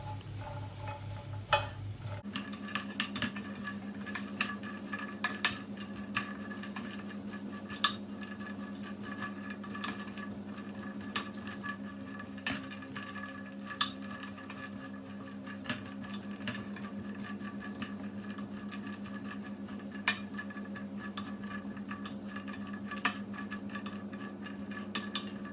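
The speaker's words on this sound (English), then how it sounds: "So I've been toasting for a while now, for about 10 minutes, and the cashew nuts are ready now." Cashew nuts toasting with honey in a pan, a soft, faint sizzle with scattered light clicks and taps of nuts and utensil against the pan over a steady low hum, continuing evenly for a long stretch without speech.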